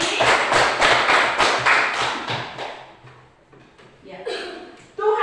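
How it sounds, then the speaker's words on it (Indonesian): Classroom of students claps together in a burst of rhythmic, fairly close hand claps that fades out, followed by a brief voice and a sharp final thump. "Tepuk tangan sekali lagi."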